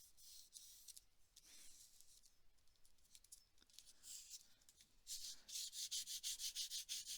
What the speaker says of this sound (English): So I'm just gonna rub this down now.